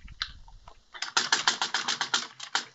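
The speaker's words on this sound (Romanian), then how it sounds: "De ce apeși așa pe tastatura aia, ești nervoasă pe ea?" Computer keyboard keys are pressed hard while playing Minecraft, giving a few scattered clacks and then a quick, rhythmic run of loud, close keystrokes.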